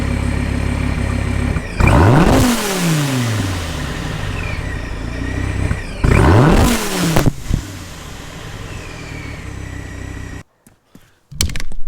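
A supercharged 1,200-horsepower Dodge Viper revs loudly in two big surges, each climbing hard and then falling away, with clunks and rattles following and a brief drop to near silence near the end.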